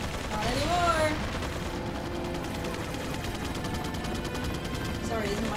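Steady rapid gunfire and turret fire keep up throughout a Resident Evil 4 firefight, a sustained mechanical rattle with occasional metallic pings, as voices talk over the top.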